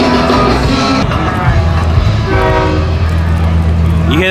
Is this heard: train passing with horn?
yes